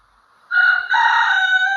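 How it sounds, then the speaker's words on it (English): A rooster crows once, loud and close, a single drawn-out cock-a-doodle-doo that breaks off and picks up again before trailing away. "Sorry, that is a chicken."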